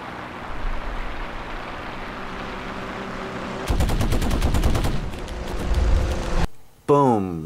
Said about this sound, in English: His rear gunner shoots out my engine.